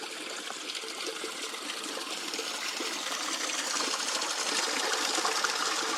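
Water flowing steadily in a small stream along a muddy footpath to Alderfen Broad, a constant trickling and gurgling rush that swells slightly louder toward the end.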